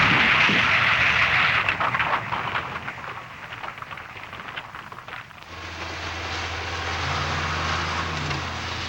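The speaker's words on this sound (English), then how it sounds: "large numbers of D9 bulldozers and 46-ton dump trucks were brought in" D9 bulldozers and 46-ton dump trucks work a hillside excavation for a large Hong Kong power plant site: a loud, continuous engine roar that eases into a steady low diesel drone with a sustained hum.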